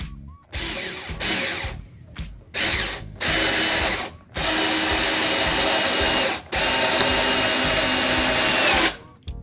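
Close, loud bursts from an INGCO 8V portable cordless drill driving a screw at torque setting 10, several runs of steady whirring separated by short pauses.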